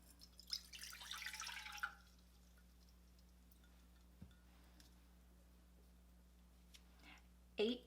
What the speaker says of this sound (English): we are going to add a cup of water